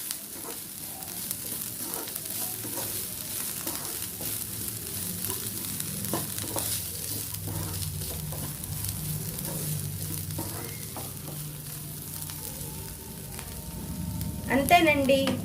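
Carrot and bean fry with grated coconut and coriander being stirred in a pan, a steady soft sizzle with scattered scraping and clinking of a spoon, ending in a sharper metallic scrape.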